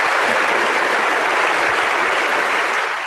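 Loud, dense applause from an audience, a continuous roar of clapping that holds steady throughout and eases slightly at the end.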